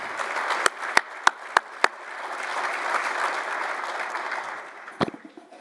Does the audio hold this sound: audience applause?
yes